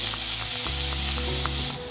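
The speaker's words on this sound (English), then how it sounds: "Coat the pan with oil and fry the onion on low heat." Onion frying in oil in a pan over low heat for Japanese katsu curry sauce, giving a steady close sizzle with faint crackles throughout, no voices.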